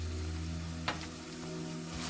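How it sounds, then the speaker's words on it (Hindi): Finely chopped onions sautéing in hot oil give a steady, close sizzle with a low hum beneath it and one brief clink of a utensil partway through. "अब इसको हम थोड़ा सा सौते कर लेंगे, इस प्याज को।"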